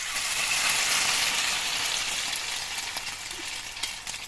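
Omelette batter frying in hot oil in a kadai gives a steady, close hiss of broadband sizzle that stays loud and even, easing slightly toward the end, with no talking.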